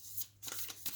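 Tarot cards being shuffled, a brief close-up flurry of soft riffling flicks, faint and quick.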